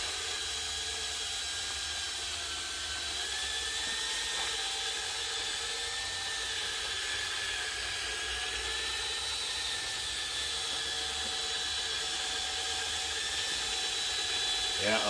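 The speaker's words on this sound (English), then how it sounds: "I like to overlap my buffing pattern so that way it comes out good." Buffing pad working over a 2010 Chevy Aveo headlight in tight overlapping circles, a steady continuous power-tool whine with faint wavering tones holding at an even level throughout, no voices.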